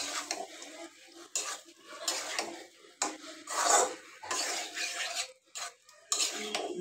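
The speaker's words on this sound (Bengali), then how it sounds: "তো আলু আর ডাটা দিয়ে দিব। ডাইকা দিয়ে ভালো মতন কষাই নিব।" Rui fish masala stir-fried with potatoes and vegetable stalks in a pan: intermittent bursts of scraping and metal clatter from the spoon against the pan over a faint sizzle, close by, with gaps between strokes and no talk.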